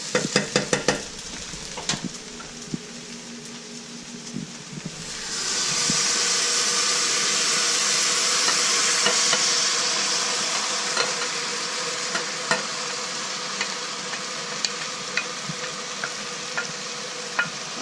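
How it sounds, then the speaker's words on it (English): Tomatoes and tomato paste go into a pan of browning onions and garlic: a few clatters, then a loud sizzle bursts in and slowly eases, with light stirring knocks over it. "Give that a quick stir."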